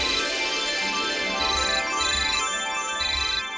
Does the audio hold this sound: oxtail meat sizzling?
no